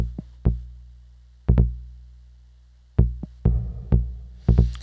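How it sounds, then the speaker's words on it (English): A square-wave pulse output feeds a modular synthesizer filter that gate triggers ping. Sharp percussive plucks with quick decays come in an irregular pattern, sometimes as quick doubles, against a low sustained hum. "I am feeding the square, the pulse output to the filter number 1, which sounds like this."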